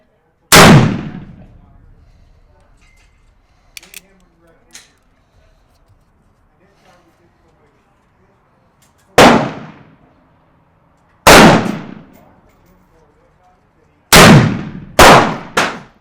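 Five loud, close shots from a Colt Dragoon revolver fired at a target, the first alone, then two spaced shots and a quick pair at the end, each ringing briefly, with faint clinks between.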